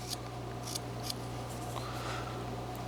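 A whittling knife carving a wooden lion makes a few faint, brief, crisp cutting snicks, spaced irregularly over a quiet, steady background hum, with no talking.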